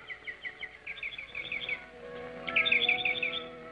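Birds in a 1952 film scene of The Snows of Kilimanjaro give bright repeated chirps and tweets in two bursts, fairly clear over a low steady background hum, with no talk.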